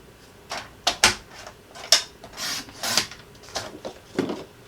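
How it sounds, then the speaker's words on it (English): A paper trimmer slices white cardstock down to size with several scraping, rasping strokes and soft thumps of paper being handled, close and fairly loud. "I'm just going to lay my trimmer over here, and I'm going to cut this down"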